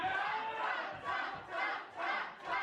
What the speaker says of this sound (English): The crowd are really all over it now